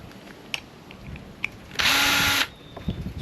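Power drill backing screws out of chunky extruded aluminium scrap, one brief loud whir lasting under a second, close up, with faint clatter before and after it.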